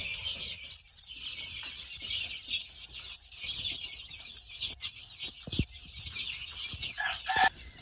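Chicks released onto a poultry range after vaccination cheep and peep in a continuous high chorus, with occasional clucks and louder hen or rooster calls near the end, fairly quiet and without talk.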